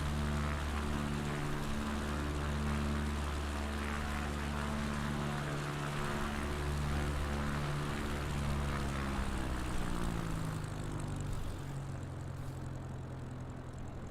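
Propeller aircraft engine in Microsoft Flight Simulator 2020 on approach to landing with flaps extended, a steady loud drone whose pitch slides and wavers as throttle changes, alone throughout.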